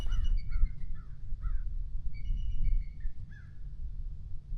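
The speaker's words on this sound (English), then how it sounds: "There's crows and a bald eagle over there somewhere." Crows caw several times in the open outdoors by the water, a series of hoarse calls, some near and some farther off, over steady low background rumble.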